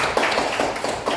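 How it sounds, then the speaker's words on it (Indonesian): A small classroom of students claps together in a short burst of even, rapid hand claps, close and fairly loud. "Tepuk tangan dulu."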